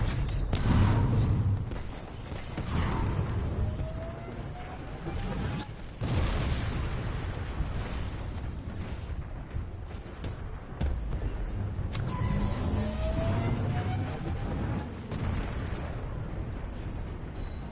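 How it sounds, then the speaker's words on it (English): Archer rocket explosions in the shooter game Titanfall 2 come as repeated heavy booms with rumbling blasts and mechanical clatter, one big hit near the start and more crashes spaced through a loud, continuous battle din. "Someone shot an archer rocket, for Pete's sake."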